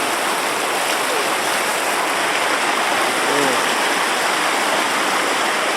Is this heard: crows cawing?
no